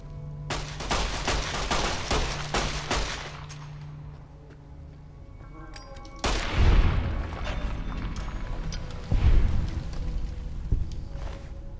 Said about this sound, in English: He is shooting me, and I'm not a fan.